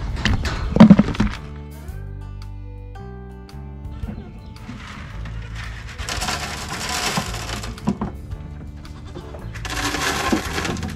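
A dairy goat bleats loudly and repeatedly in long, drawn-out, harmonic cries, broken by thuds and clatter from the barn.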